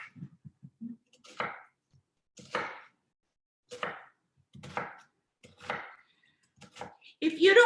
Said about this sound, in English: I'm just going to chop the onion.